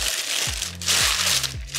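A small plastic takeaway bag holding American food in Korea crinkles and crushes close by in quick, loud bursts of rustling.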